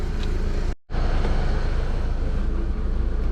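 A BMW E36 318i engine idling, a steady low hum with even rumble, broken by one brief cut-out near the start before it carries on unchanged.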